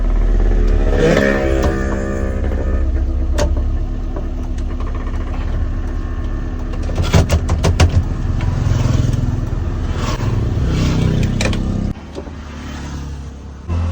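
A Zen car fitted with a swapped-in Baleno engine revs hard and close, loud throaty bursts rising and falling, with some clattering, then the engine note drops sharply near the end.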